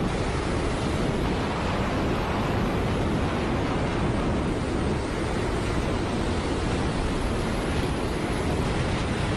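An Airbus A380 airliner flies close to a jetpack flyer over Dubai, heard as a continuous, loud, broadband jet engine roar with no breaks or voices.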